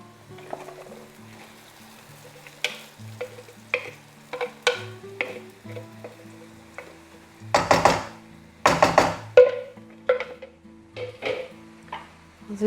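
Chicken and onion frying in a pan while being stirred, with scattered scrapes and clatters of a utensil against the pan, a few louder bursts of stirring, and a soft sizzle underneath.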